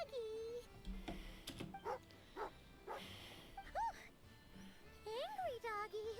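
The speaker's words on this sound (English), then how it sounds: "Yeah, that's a dog or a wolf." Dog-like whimpers, yips and rising whines from a dog or wolf creature in Genshin Impact, short, separate cries spread among game sounds and background music.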